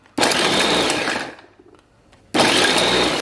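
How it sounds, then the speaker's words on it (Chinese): A blender chops carrots in two loud whirring bursts separated by a short pause, close and with no talking. "接下来咱们搅一些胡萝卜"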